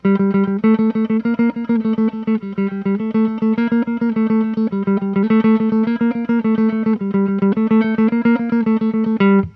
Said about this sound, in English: we're going to pick each note 4 times and keep just alternating through them